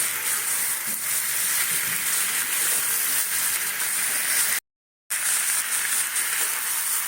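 Whole chillies sizzle in hot oil for a Bengali potato and snake gourd curry, a steady bright frying hiss that carries on throughout with one brief dropout.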